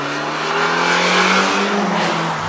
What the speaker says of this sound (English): go to redline and sing. It makes a really nice sound when you do that.